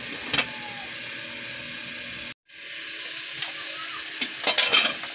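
Pork sizzles and sautés in a pan, a continuous close frying crackle with a brief dropout partway through, followed by louder spatula scrapes and stirring clatter.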